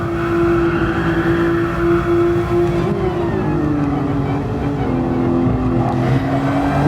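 Race car engine in Gran Turismo Sport droning loud and steady, pitch dipping briefly then settling again as the car drives through a turn, with no voice over it.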